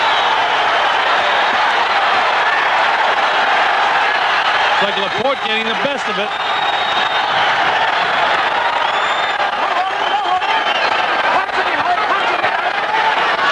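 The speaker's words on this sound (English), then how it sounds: "Crowd coming to life as you see the action here." A boxing arena crowd during the eleventh round of Julio Cesar Chavez vs Juan La Porte roars in a loud, continuous wash of cheering and noise, with a ringside commentator talking over it and a brief shout rising midway.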